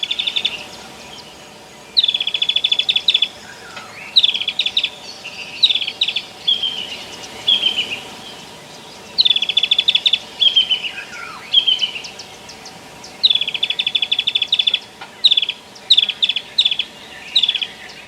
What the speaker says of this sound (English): I heard a grey-headed kingfisher calling